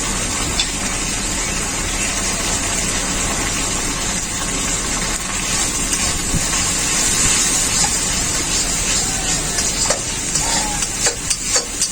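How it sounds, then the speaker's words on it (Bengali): Loud continuous sizzling and hiss of a spice paste with turmeric frying in a wok, sticking to the pan, with occasional scraping and stirring, close up. "মশলাটা আমার খুব ভালো করে কষানো হয়ে গেছে। দেখুন মশলাটা লেগে লেগে যাচ্ছে কড়াইতে।"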